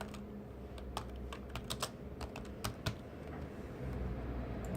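Keys clack on a computer keyboard in short irregular bursts of typing, close and fairly quiet, with no voices.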